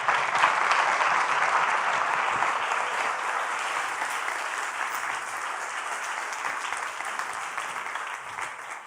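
Loud, sustained applause from an audience at a science talk event, steady dense clapping filling the whole stretch and tapering only slightly toward the end, with no voices over it.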